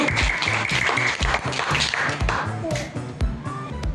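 Loud audience clapping at a children's quiz contest, dense and close, mixed with a voice talking and background music, keeping going strongly through the whole stretch.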